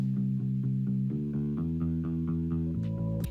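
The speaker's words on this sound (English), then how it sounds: "I just added this bass also from Labs, like I mentioned earlier. And so that sounds like this." A bass instrument plays a bouncy line of short repeated notes, steady in rhythm, with a slightly effected, buzzy tone and no voices.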